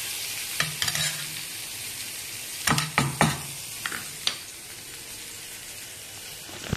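A spoon scrapes and stirs through gongura and prawn-shell chutney frying in a pan, with soft sizzling underneath and several sharp clinks and knocks against the metal.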